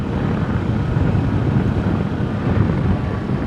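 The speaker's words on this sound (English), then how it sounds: "So I'm on my way to Ubud from the beautiful beach of Melasti with the Kawasaki Versys 250 Tourer." A Kawasaki Versys 250 Tourer motorcycle being ridden on a road in Bali, a steady engine drone blended with heavy wind rush across the microphone, constant and loud with no talking.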